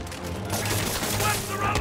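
Enemy gunfire in Marvel's Spider-Man on PS4, a dense burst of rapid loud shots filling the moment, with a voice talking faintly underneath.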